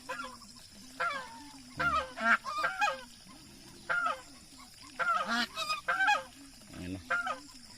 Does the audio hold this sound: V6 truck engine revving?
no